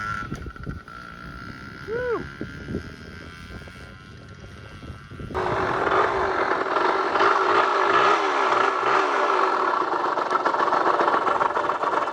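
A restored Yamaha Mini Enduro JT-2 motorcycle runs with a small buzzing engine, idling quietly at first with a short rev, then jumping to a louder, steady drone close by.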